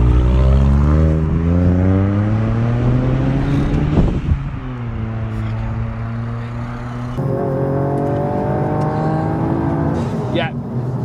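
A Litchfield-tuned Toyota GR Yaris rally homologation car drives hard from inside the cabin. Its engine climbs through the revs in loud rising pulls, drops sharply on gear changes and pulls again, with talk faintly under the engine.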